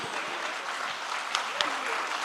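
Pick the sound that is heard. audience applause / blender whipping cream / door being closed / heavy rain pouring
audience applause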